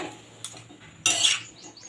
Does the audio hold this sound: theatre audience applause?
no